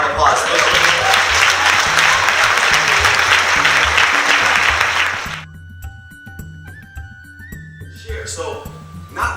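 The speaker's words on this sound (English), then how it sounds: "let's give Parada a round of applause" A conference audience at TiECon 2015 claps loudly for about five seconds under a low background hum, then the applause cuts off, leaving quiet room tone and brief faint sounds near the end.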